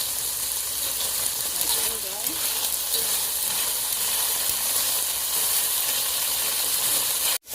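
Beef steak strips frying in a pan with red pepper flakes, a steady loud sizzle and crackle running continuously with no talk over it.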